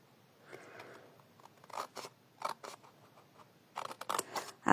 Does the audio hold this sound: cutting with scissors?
yes